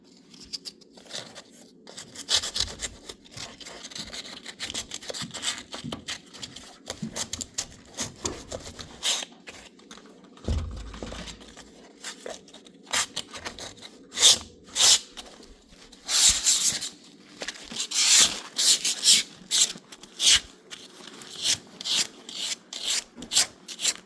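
Hand sanding of a wooden window frame with 80 grit sandpaper, a steady scratchy rasp of short back-and-forth strokes, close and continuous, growing more vigorous toward the end.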